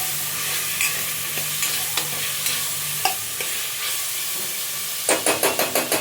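Small home-grown tomatoes cooking in a pan for mutton paya (goat leg) soup, with a steady sizzling hiss, scattered stirring clatters and a quick run of sharp spoon taps near the end; no talking.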